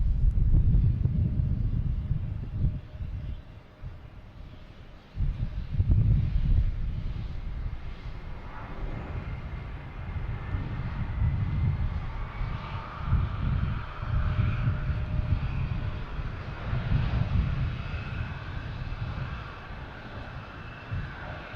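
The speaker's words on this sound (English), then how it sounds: "there's that JetBlue heading to West Palm Beach." A JetBlue airliner departing Boston Logan for West Palm Beach rumbles low and distant, its engine drone rising and falling in uneven surges amid gusty wind buffeting the microphone.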